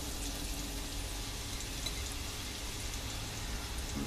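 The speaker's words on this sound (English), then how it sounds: "Saute these a little bit, just enough to get the flavor going" Onions and garlic saute in bacon grease for crock pot chili, making a soft, even hiss and faint crackle that carries steadily and quietly without voices.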